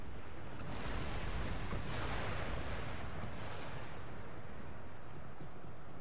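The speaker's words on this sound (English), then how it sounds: "Cannons begin their artillery barrage." A cannon artillery barrage in a Little Bighorn battle video game swells into a broad rumbling roar of blasts, loudest early on and then settling into a steady, distant thundering wash.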